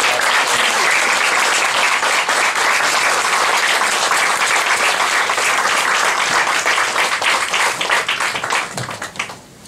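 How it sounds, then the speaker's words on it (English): Loud, sustained applause from a studio audience greeting guests, dense clapping that holds steady before tapering off at the end. "big round of applause"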